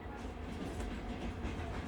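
A passenger train, once steam-hauled, rolls on rails on a night run through the Alps, giving a steady, close, continuous low rumble and rattle with no breaks.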